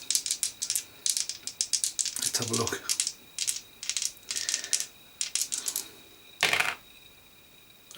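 Two dice are rolled during a play session of the Iron Helm tabletop game, giving a run of quick, close clattering rattles in bursts. A voice speaks briefly partway through.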